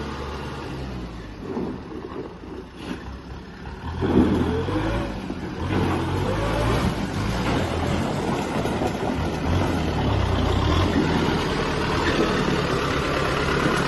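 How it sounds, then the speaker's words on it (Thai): A four-cylinder turbo diesel engine on a Kubota M6040SU tractor runs and idles steadily, rising in intensity after a few seconds into a louder, sustained rumble, heard up close with no talking. "เครื่องยนต์สี่สูบเทอร์โบนะครับตัวนี้"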